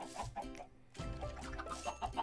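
Minecraft chickens clucking in short repeated bursts, close and clear over faint game background sound.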